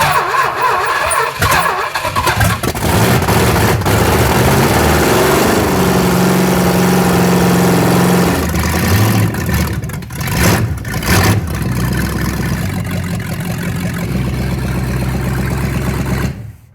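A big-block V8 with a rebuilt Thermoquad carburetor, swapped into a Suzuki Samurai, cranks and roars loudly up close, rising and surging with throttle blips and stumbles throughout.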